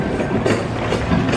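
A Dubai Metro train rumbles past close by in a steady, loud roar of wheels and motor, lasting the whole brief moment without speech.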